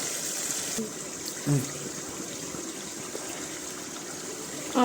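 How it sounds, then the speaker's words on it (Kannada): Tamarind water with a little salt boils in a cooking pot, giving a steady, soft, bubbling hiss that continues throughout, with a brief louder splash or clatter partway through. "ಹುಳಿ ಕುದಿ ಬಂದಿದೆ ನೋಡಿ"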